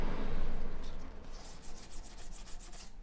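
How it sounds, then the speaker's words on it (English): Steady scratchy rubbing of sandpaper over the edge of a 1/350 plastic Enterprise model, close and fairly quiet, in short repeated strokes toward the end. "just this little bit of sanding is going to take enough of that edge off"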